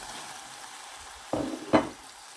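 Tomatoes are dropped into a pan of frying onions for a homemade aloo anday curry, giving two quick sizzling bursts over a quiet steady frying hiss.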